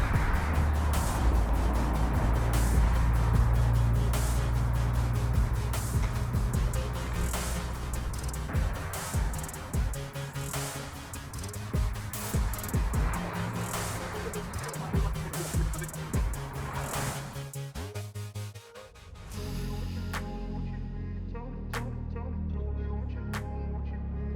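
Subaru WRX STI running with no catback exhaust fitted, a loud, raw engine rumble with shifting revs and bursts that drops out briefly before a steadier idle-like drone returns.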